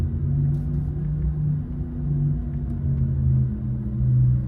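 A 2022 Porsche Taycan 4S electric car drives with a steady low rumble and road noise heard from inside, a soft hum swelling slightly now and then, with no talking.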